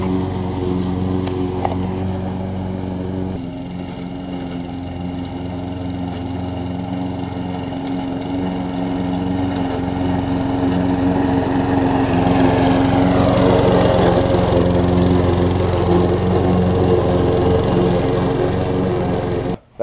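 A 22-inch self-propelled lawn mower runs close by with a steady buzzing drone that rises slightly partway through and cuts off at the very end.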